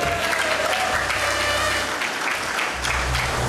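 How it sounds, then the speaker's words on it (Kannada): An audience gives a short burst of hand clapping for a karate and martial arts demonstration at an institution's annual day event. The applause is steady and fairly loud, with no speech over it. "ಎಲ್ಲರೂ ಚಪ್ಪಾಳೆಯ ಮೂಲಕ ಪ್ರೋತ್ಸಾಹಿಸಬೇಕೆಂದು"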